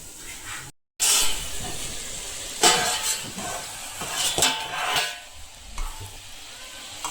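Stuffed brinjal curry fries and sizzles in a pan, with a spoon scraping and stirring in irregular bursts over steady hiss, close and moderately loud, with a brief dropout near the start.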